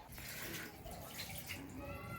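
A steady stream of water pours and splashes into a mixer jar, a continuous hissing rush heard close by.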